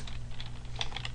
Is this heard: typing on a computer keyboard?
yes